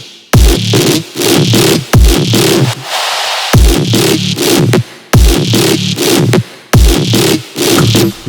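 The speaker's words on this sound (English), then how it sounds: "And then that's when we added the mid-bass sustain, which sounds like this." Dirty dubstep mid-bass sustain synth for a tearout drop, loud repeating bars of growling, distorted bass stuttering in rhythm with a heavy kick, with short gaps between phrases and no talk.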